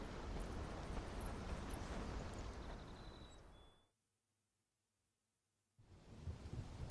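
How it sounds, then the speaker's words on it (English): Steady rain and a deep thunder rumble in Final Fantasy XVI fill the air loudly, cut to near silence for about two seconds, then the downpour returns. "And it's raining."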